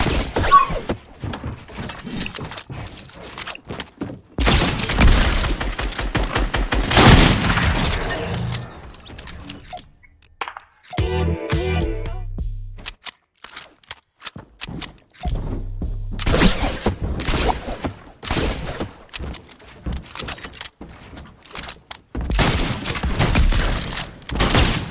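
Gunfire in the Fortnite video game arrives in loud dense bursts, separated by quieter stretches of mechanical clicks and rattles, with a few sharp cracks standing out.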